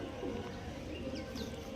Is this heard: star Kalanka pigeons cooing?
yes